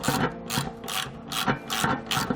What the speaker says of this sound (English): I'm just going to put the Allen wrench on the top and use the ratchet on the bottom.